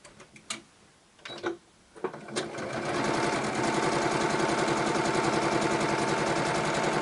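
Sewing machine chain piecing quilt block squares for a succulent field quilt: a few taps and short bursts at first, then a steady, loud, fast mechanical stitching rhythm running continuously to the end.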